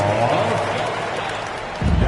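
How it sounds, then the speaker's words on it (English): Applause at a basketball game fills the space as a steady, moderately loud wash of crowd clapping and cheering, with a low rumble swelling near the end. "Give yourself a big round of applause."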